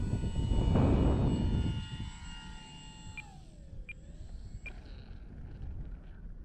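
An E-flite AT-6 Texan RC warbird model plane comes in to land in strong wind, its engine note loudest at first, then fading to a steady whine that bends downward in pitch as it descends, with wind noise underneath.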